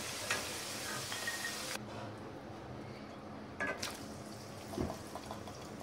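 Sweet corn kernels frying in hot oil in a pan, a soft continuous sizzle with occasional stirring clatter and brief louder crackles, faint and close.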